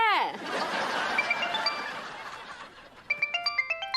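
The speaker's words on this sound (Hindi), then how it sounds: "अरे बहुरिया का वीडियो कॉल।" A phone plays a bright, repeating electronic ringtone for an incoming video call near the end, following a stretch of chuckling and laughter.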